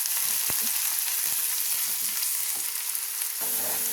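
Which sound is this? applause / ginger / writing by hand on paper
ginger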